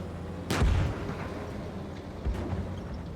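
Tank cannon fire and explosions in the PC game Gunner, HEAT, PC!: a heavy booming blast with a rumbling tail, then a second, shorter thud about two seconds later, over low battlefield ambience, no talking.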